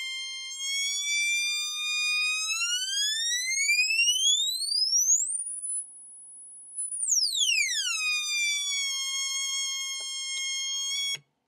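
A harmonic-rich electronic tone sweeps steadily upward in pitch, holds on a shrill high note, then glides back down, loud and continuous with no voices.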